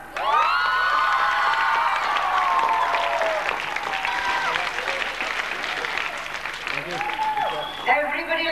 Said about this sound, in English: Again, give him a big hand